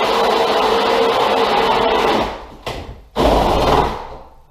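A power drill with its clutch set runs steadily during kitchen cabinet work, a loud continuous whir for about two seconds, then two short, sharp bursts with brief pauses between them before it winds down.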